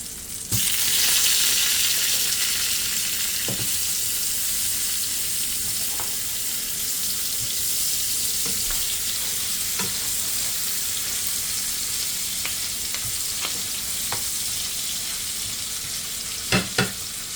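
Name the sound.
butter and onions frying in a pan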